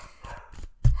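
Dogs bark in quick succession: three or four short, sharp barks close by, the last one loudest, all within about a second.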